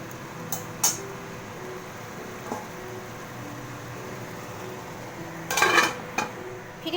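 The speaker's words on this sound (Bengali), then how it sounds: "তো এখন মশলাটা একটু কষতে দিতে হবে।" Spice paste with chili powder and green chilies cooking in a pan for a prawn and banana-stem curry, a low steady sizzle broken by a few sharp metal clinks and a louder cluster of scraping knocks near the end.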